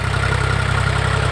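A diesel tractor engine idles with a loud, close, steady low throbbing rumble and an even pulsing beat throughout.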